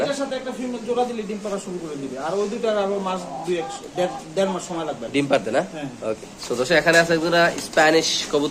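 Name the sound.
pigeon cooing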